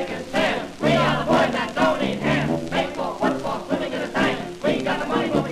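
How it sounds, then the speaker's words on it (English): A 1931 dance-band ensemble shouts a group cheer in rhythmic bursts, many voices yelling together loudly and close, each burst falling on the beat across several seconds. "Now, here is a cheer that is plenty hot"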